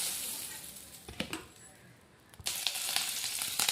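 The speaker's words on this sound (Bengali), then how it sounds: "দিয়ে দিলাম শুকনো লঙ্কা, দিয়ে দিলাম পেঁয়াজ" Dried red chillies and onion dropped into a hot pan for a flattened rice pulao, a soft steady sizzle that swells into louder crackling after a brief quiet moment.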